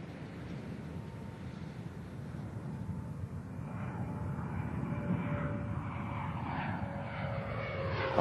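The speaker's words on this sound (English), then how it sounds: "Nose gear touchdown." Space Shuttle Endeavour on mission STS-126 lands on the runway at Edwards, giving a steady broad roar of rushing air that builds gradually and stays continuous and fairly distant, with no speech.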